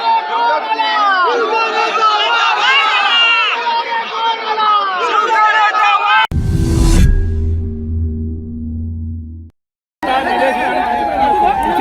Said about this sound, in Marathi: जल्लोष सुरू आहे कार्यकर्त्यांचा